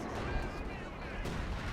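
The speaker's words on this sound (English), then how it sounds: "OKW Panzer 4 firing away, just off of C3." Panzer IV tank cannon fire during a Company of Heroes 2 battle, heard as dense, continuous rumbling combat noise with a sharper blast shortly before the end.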